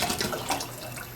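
Room-temperature water, one liter, pours steadily into a pot beside a vintage 1983 Coleman 413H two-burner camping stove, a continuous close splashing rush with no pauses.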